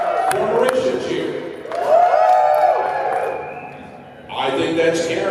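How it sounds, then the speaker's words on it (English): A panel audience at a convention voice-acting event cheers and claps for a contestant, a broad crowd swell that rises, dips and returns, with talk mixed in. "For Marisha, cheer."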